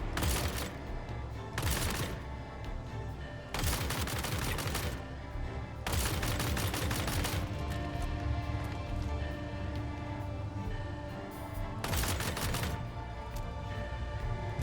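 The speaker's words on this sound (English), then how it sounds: "Let's try to snipe some guys with this thing." Killshot Payback sniper rifle fire in a video game, several loud, sharp shots spaced a few seconds apart, each with a burst of noise and trailing echo, over steady game background sound.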